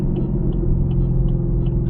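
A 2017 Chevrolet Camaro SS 1LE V8 with a Corsa Xtreme catback exhaust, giving a loud, steady low rumble that stays constant at a close range without any talking.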